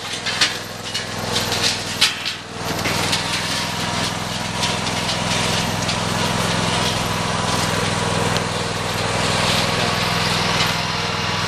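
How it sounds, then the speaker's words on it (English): A John Deere lawn tractor pulls a yard sweeper, its small engine droning steadily and close, with a few knocks and rattles of debris early on. "You can see it actually does a really good job of throwing debris."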